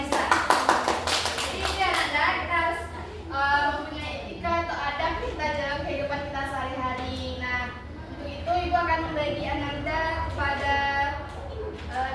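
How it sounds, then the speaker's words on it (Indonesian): Classroom audience applauding during a school practical exam on Islamic ethics, a burst of many hands clapping near and loud at first, then continuing more loosely under a talking voice. "kita berikan aplaus"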